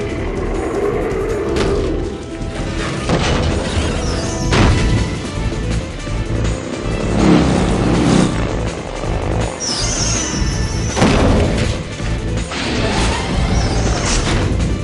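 In the Metal Gear Solid 3 video game, a bomb on a bridge strut explodes beneath the Shagohod, heavy booming crashes and metallic impacts over a dense roaring mechanical din, loud and sustained with several sharp bursts.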